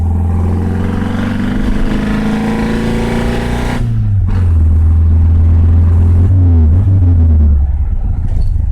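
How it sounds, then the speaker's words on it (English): A Saab Sonett, whose transmission comes from the two-stroke versions, coasts in freewheel mode. A steady engine drone with a low hum and road rumble runs throughout, and partway through the pitch drops as it settles into a lower idle while rolling. No one talks. "I've got the freewheel on, and it just coasts."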